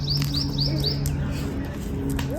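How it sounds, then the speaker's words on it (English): Baby birds chirp high in a tree on a park nature walk in New Delhi, rapid repeated thin tweets in short bursts, then fading, over steady outdoor background hum. "There are two baby birds."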